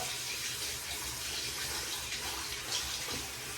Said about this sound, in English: we're just gonna go ahead and turn on some hot water